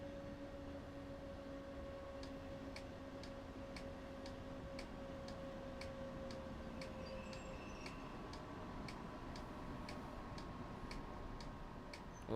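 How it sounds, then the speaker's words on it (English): Train beacons in Train Sim World 5 click steadily at an even pace, like car hazard lights, a faint regular ticking over a quiet, low rumble of the cab. "I love how they put the beacons on. You can hear it, eh? It's like click, click, click. It's like a car when you turn on the hazards."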